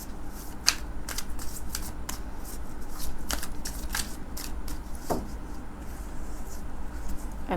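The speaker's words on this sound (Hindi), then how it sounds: "जब मैं आप लोगों के लिए एक कार्ड निकाल रही हूँ तो दो दो कार्ड्स क्यों आ रहे हैं" Tarot cards are shuffled and drawn by hand, giving crisp, irregular riffling snaps and soft flicks, close and fairly quiet, with no voice over them.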